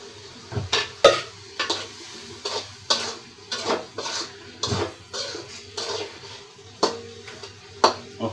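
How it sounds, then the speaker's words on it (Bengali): Fried hilsa fish pieces go into a pan and are stirred, making about a dozen close, rhythmic scrapes and clatters of a utensil against metal with a light sizzle underneath and no talking. "দেখতে পাচ্ছেন গাছ ইলিশ মাছ ভাজাগুলো আমি দিয়ে দিলাম"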